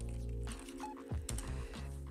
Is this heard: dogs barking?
no